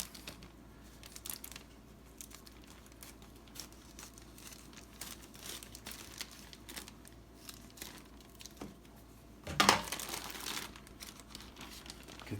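A plastic bag of coleslaw mix being cut open and handled: continuous close crinkling and rustling of plastic, with a brief louder tearing crunch near the end.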